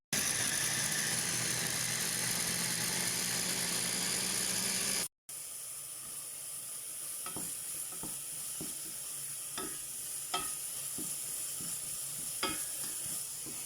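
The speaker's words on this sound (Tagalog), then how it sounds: "So ngayon magbe-blender na naman ako ng kamatis." A blender blending tomatoes whirs loudly and steadily for about five seconds, then stops abruptly, leaving a low background hum and a few soft clinks.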